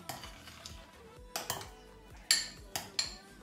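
A spoon clinks and scrapes against a bowl while mixing cream cheese with honey and ground cinnamon, several sharp rhythmic taps spaced about half a second apart over quiet background.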